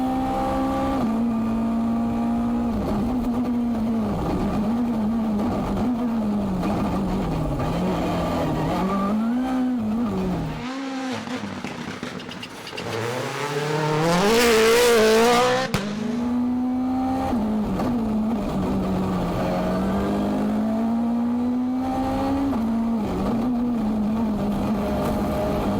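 Rally car engine at high speed, loud and close throughout, its pitch rising and falling with gear changes and revs, a brief lull near the middle before a sharp surge of acceleration, with no talk over it.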